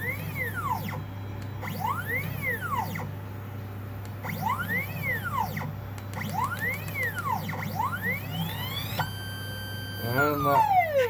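A 3D printer stepper motor driving a sewing machine stalls. It gives off a steady low hum, and above it high whining tones sweep up and down over and over like a siren. It ends in a brief sustained pitch before a falling whine.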